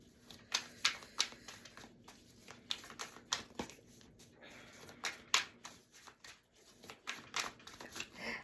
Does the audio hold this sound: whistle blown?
no